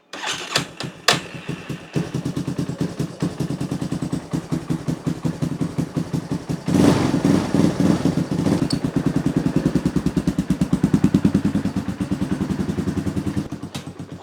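An old Yamaha Warrior 350 ATV cranks on choke, catches after a couple of seconds, and settles into a loud, close, rapidly thumping single-cylinder idle that swells with a blip of throttle partway through and keeps running steadily.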